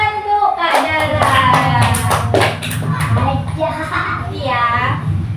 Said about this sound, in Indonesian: Tepuk tangan untuk Kak Dara.